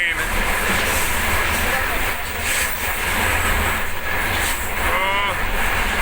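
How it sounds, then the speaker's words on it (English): A train rolls past in Georgia, a steady broad rumble filling the whole stretch with faint squeals near the end, while people talk nearby over it. "That's another train."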